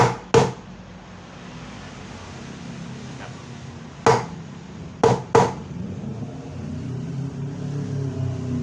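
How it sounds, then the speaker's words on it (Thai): Sharp metallic hammer strikes ring out, one near the start and then a quick cluster of three, over a low background hum, as a pin is driven into the drum shaft of a Samsung washing machine's spin dryer. "ก็เราทำการตอกสลักเข้าได้เลยนะครับ"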